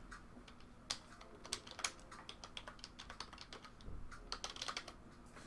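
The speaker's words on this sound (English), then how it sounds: "Actually, I can type, but I just can't see what I'm typing." Rapid clatter of keys on a computer keyboard, quick irregular bursts of clicks at close range with a low hum beneath and no talking.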